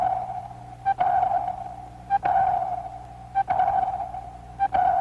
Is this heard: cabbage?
no